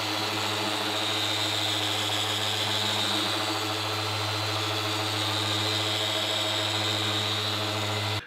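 A Rupes Mille LK900E gear-driven machine polisher runs steadily and loudly for about eight seconds, a constant rumbly motor drone with a low hum and broad whirring hiss, then cuts off abruptly at the end.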